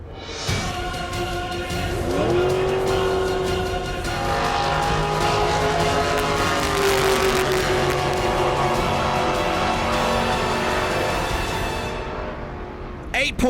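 A drag racing car launches hard off the line, engine roaring and revving loudly with rising gear whine, close and sustained for over ten seconds before fading, with a voice talking over it.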